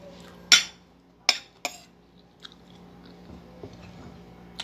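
Crunchy atsara, pickled vegetables, bitten and chewed during a home lunch: three sharp crisp bites near the start, then softer, quieter chewing crunches over a faint steady hum, with no talking.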